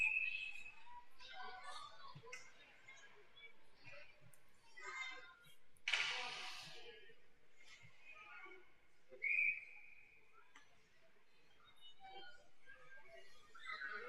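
A referee's whistle sounds at a youth ice hockey game, with a brief blast near the start and a sharper, louder one midway, amid rink noise and voices talking throughout.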